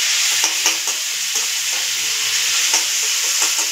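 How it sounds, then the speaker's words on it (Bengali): Chicken fries in hot oil with a loud, dense, continuous sizzle close up, while a utensil stirs and lifts pieces with a few scraping clinks; no one speaks. "তেল থেকে ঝরিয়ে ঝরিয়ে চিকেনটাকে"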